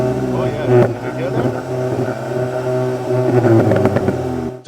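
Engine of a VW Golf GTI hot hatch with 265 bhp, a steady loud rumble with rising revs and harmonic layers, running close by throughout with a brief burst near the end and light talk in the background.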